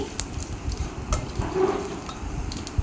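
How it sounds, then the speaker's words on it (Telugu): Dried red chillies sizzle in hot tempering oil with fenugreek powder and asafoetida, a brief close crackle with scattered pops over a soft frying hiss. "ఒక రెండు ఎండుమిర్చి వేసుకోవాలి"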